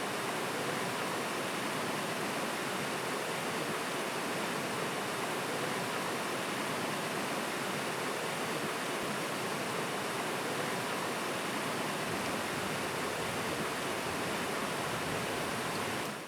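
King Chutes, a waterfall on a river in Northern Ontario, pours in a steady broadband roar that stays even and unbroken throughout, moderately distant and with no voices.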